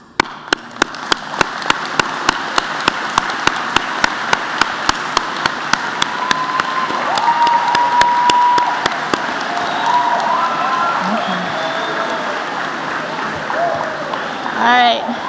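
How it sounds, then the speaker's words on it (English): Audience applause at a 2015 high school commencement ceremony, a broad sustained wash of clapping from a large crowd honoring standing parents and grandparents, steady and dense for the whole stretch with a few sharper claps near the start. "Parents and grandparents, could you please stand for a big round of applause?"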